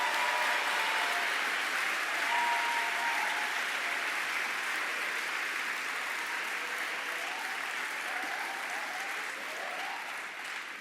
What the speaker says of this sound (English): And now a round of applause for all of our conference honorees.